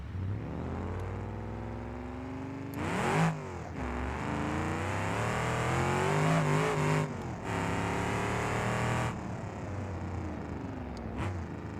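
A car engine in the BeamNG.drive video game revs hard through its gears, rising in pitch, dropping at each shift and climbing again, loud and close throughout with no talk.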